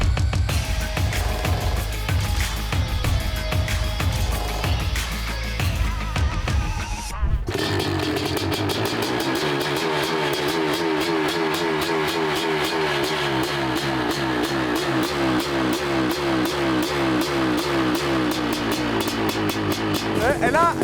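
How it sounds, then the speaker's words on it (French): A new BMW M4 engine runs and revs hard, a loud raspy mechanical roar that shifts abruptly partway through into a crackling, rising drone, with no break in the noise. "ils reconnaissent un moteur neuf parce qu'il claque."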